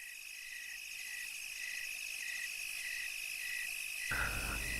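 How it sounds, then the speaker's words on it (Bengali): Frogs croak at night along a moonlit village road, repeating in an even series of short calls over a steady insect-like drone. Near the end the sound shifts abruptly to a louder, fuller background. "হঠাৎ হঠাৎ ব্যাঙ ডাকছে।"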